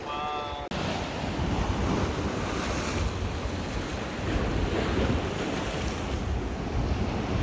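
Sea waves wash against the shore at a fishing spot in Malta, a continuous loud surf roar with heavy wind buffeting the microphone after a brief quieter opening.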